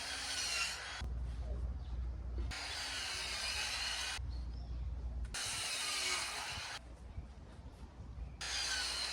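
Wooden boards being dry-fitted into a raised garden bed, with repeated scraping, rubbing and knocking of wood in bursts separated by short pauses, close by.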